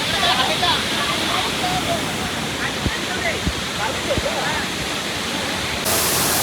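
Majivali waterfall near Virar roars in a dense, constant rush of falling water, with a few faint voices and brief knocks mixed into the steady wash.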